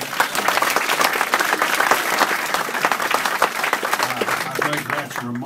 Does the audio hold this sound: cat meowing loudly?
no